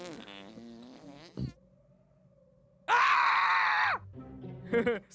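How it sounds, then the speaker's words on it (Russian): A whoopee cushion fart effect in an Undertale animation gives a loud, buzzy, drawn-out blast of about a second, set between stretches of voices. "Старая шутка, превратил руку в подушку-пердушку."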